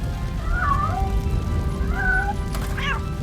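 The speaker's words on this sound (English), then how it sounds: "Hang on, I hear a cat." A cat meows twice, then gives a short rising mew, over a steady crackling roar of fire inside a burning building in the video game Robocop Rogue City.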